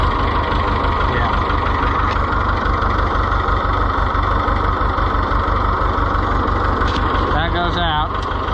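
A tractor engine idles with a steady low rumble close by, and a voice speaks briefly near the end.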